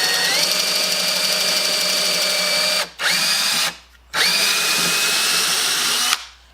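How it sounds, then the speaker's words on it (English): An electric drill motor cuts a plug in a piece of 2x4, a loud steady whine held for several seconds, stopping twice briefly and spinning back up before cutting off at the end. "Now to drill the plug, you just start the drill motor"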